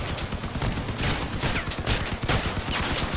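Sustained gunfire from vehicle weapons in the combat game Crossout, a dense, continuous rattle of rapid shots and bursts, loud and close throughout with no talking.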